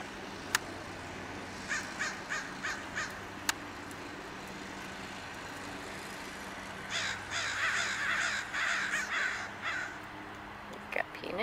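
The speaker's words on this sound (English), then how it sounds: "only had to wait like 5 minutes for the crows to finally decide to come down." Crows caw in two separate bursts of repeated harsh calls from a short distance, with faint road traffic and a couple of sharp knocks in the quiet outdoor background.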